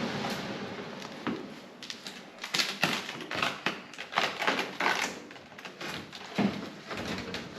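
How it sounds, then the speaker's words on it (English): Tape being pulled and pressed on to seal a hole in a duct: a run of close, irregular ripping and crinkling bursts with brief pauses between them, fairly quiet, with no talking. "Now what I'm going to do is actually tape it up"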